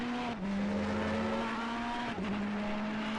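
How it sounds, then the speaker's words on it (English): High-revving Audi and Ferrari race car engines whine steadily at close range at Zolder, the pitch dipping briefly as gears shift, with no talking. "as Kevin in the pits as he hears the Audi and Ferrari sing"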